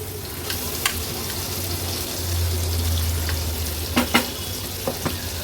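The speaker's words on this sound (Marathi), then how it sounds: "तेल पण छान गरम झालं आहे। आता फोडणीला हे वाटण घालूया।" Ground masala paste hits hot oil in a pan and fries with a steady, close sizzle, with a few sharp pops and stirring clicks near the end and no talk.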